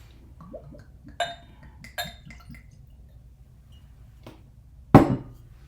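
A whiskey glass clinks as it is handled, with a few light, bright chimes followed by one sharp, loud knock near the end, all close up in a quiet room.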